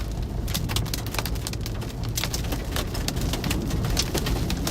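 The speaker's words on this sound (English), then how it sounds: "Here's some hail." Hail and wind-driven rain pelting down during a supercell storm in Nebraska, a dense, steady patter of many sharp clicking impacts over a constant roaring wash of rain and wind.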